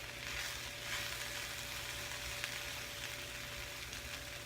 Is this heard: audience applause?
no